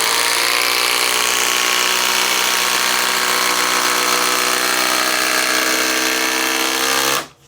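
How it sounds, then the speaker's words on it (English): A Makita XGT cordless impact driver drives large fasteners with a loud, continuous buzzing hammer rattle. The tone rises steadily, then cuts off abruptly at the end. "it has no problems driving some of those bigger fasteners"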